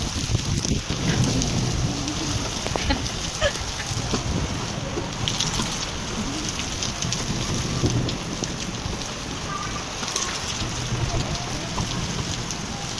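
Steady rain falling in a village in Kashmir, an even hiss of drops with some wind noise, continuous and moderately loud with no talking.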